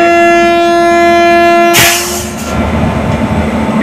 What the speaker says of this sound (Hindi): ये क्लियरेंस का वेट करती हुई Kashi express Phulpur railway station पर।